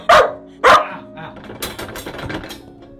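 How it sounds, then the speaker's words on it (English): Puppy barking from inside a crate at night, two loud close yaps followed by softer whimpering and rattling noises, with no speech. "If your puppy starts barking, you can jingle jingle on that crate"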